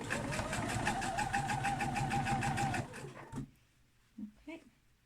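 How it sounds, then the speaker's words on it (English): A sewing machine back-stitches elastic along a homemade face mask, running in a steady, fast, close mechanical rattle for nearly three seconds before stopping, followed by a few faint clicks and small handling sounds. "So I'm going to back stitch the full length of the elastic again"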